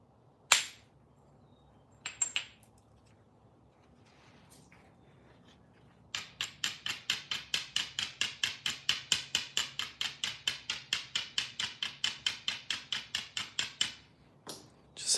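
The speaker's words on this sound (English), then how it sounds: "hammerstone it to death" Hammerstone striking stone while flintknapping a point: a few scattered sharp cracks, then a long, steady run of rapid, evenly spaced taps, close and crisp, with no talking.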